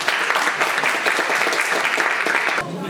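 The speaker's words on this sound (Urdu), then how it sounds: "پلیز آپ دونوں کے لیے تالیاں بجا دیں." Steady, dense applause from a Christmas church gathering fills the room for a few seconds, then cuts off abruptly near the end.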